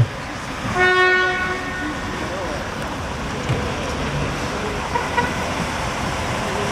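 A children's heritage railway train rumbles into Alpinka station with a long horn blast near the start, followed by steady rolling and track noise as it pulls in.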